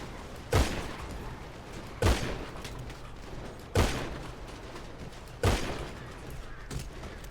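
Heavy gunfire in GTA Star Town roleplay: four or five booming shots spaced about one and a half seconds apart, loud and close, each trailing off into a short echo.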